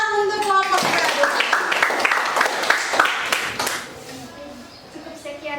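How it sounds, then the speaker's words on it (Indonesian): Classroom applause for a student group, a burst of many hands clapping together for about three seconds before fading, with voices talking at the start and end. "tepuk tangan untuk kelompok kedua"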